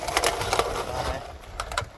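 Tuffiom magnetic sweeper rolling on its wheels over a floor and picking up screws, giving a short burst of close rattling clicks and rolling clatter.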